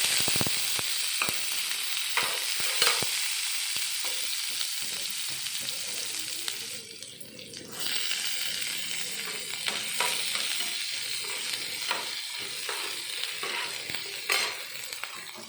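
Cumin, fennel and chopped onion for sambar frying in hot oil, a loud continuous close sizzle with crackles and stirring scrapes, briefly dipping midway before resuming.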